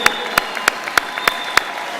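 Graduates, family and friends applauding at the UIC College of Medicine commencement ceremony, heard as a steady wash of crowd clapping with a few sharper, louder claps standing out at regular intervals.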